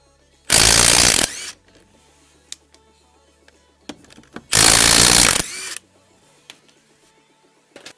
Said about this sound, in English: I will be using the impact driver to remove the lug studs.